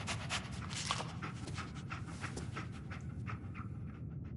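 Dogmeat, the canine companion in Fallout 4, pants steadily and close, his quick breaths running throughout beneath a dense wash of game ambience.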